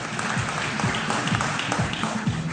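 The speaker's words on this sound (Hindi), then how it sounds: "वो तालियां बजाएं।" Studio audience applause at a television cricket show, a dense continuous patter of clapping that is close and steady throughout.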